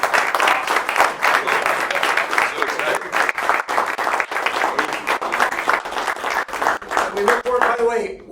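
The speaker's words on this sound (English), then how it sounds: "Will you please join me in a big round of applause for Stephen?" A live audience applauds a guest speaker at a Middle East policy talk, with dense steady clapping throughout, tapering near the end as a few voices come through.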